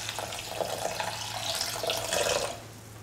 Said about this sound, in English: pour in 300 ml of water.